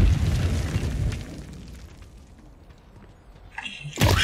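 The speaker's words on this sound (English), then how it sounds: "Grenade. Grenade out." A grenade detonates in Call of Duty Modern Warfare 3 with a heavy low boom that fades over a couple of seconds, followed by a sharp, loud new burst at the very end.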